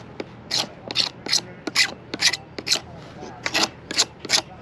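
Tool beveling the inside and outside edges of PVC pipe, a rapid series of close, scraping rasps in short repeated bursts, with someone talking over it.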